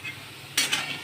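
Onions frying in a pan for egg bhurji: a quiet hiss, then a short louder burst of sizzle and stirring near the end, brief and without speech.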